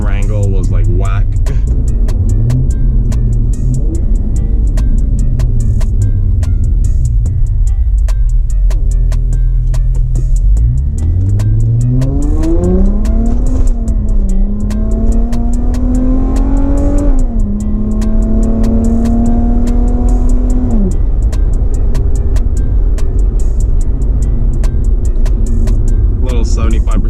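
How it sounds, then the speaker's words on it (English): A tuned Infiniti G35 idles, then its engine climbs hard through a long, loud throttle pull with rising pitch and gear changes. The car is heard from inside at close range, with a steady rumble throughout. "Throttle pull right there."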